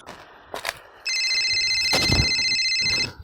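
A telephone rings in a home setting: a single steady, bright electronic ring lasts about two seconds, preceded by a few faint knocks and rustles.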